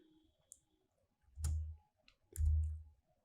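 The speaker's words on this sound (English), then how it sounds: "if I press the space button in my keyboard" Space bar presses on a computer keyboard in a quiet room: a couple of sharp, close clicks, each followed by a soft low thump, separated by about a second.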